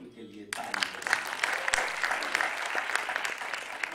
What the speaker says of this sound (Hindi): कपिल शर्मा 1 करोड़ तक पहुंचे, उनके लिए ताली।